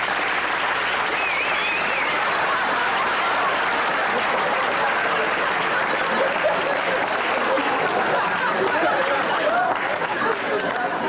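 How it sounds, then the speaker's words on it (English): A studio audience at a talk show gives a warm, continuous round of applause that stays steady from start to finish, with some crowd chatter and laughter mixed in. "let's bring him on with a nice warm round of applause"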